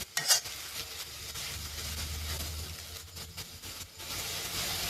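Sesbania flowers stir-frying in oil, giving a steady soft sizzle with scraping stirs and a clink of utensil near the start, close and fairly quiet, with no voices.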